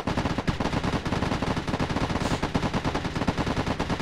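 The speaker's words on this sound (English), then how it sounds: "We're shooting at bad guys." Rapid sustained automatic gunfire from the military shooter game ARMA 3, a dense, steady stream of close, loud shots with no pauses across the whole stretch.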